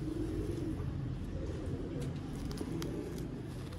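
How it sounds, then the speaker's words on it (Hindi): Sialkoti batera pigeons cooing nearby, low soft coos repeating over a dense, steady background rumble, with faint chirps scattered above. "बटेरे कबूतर"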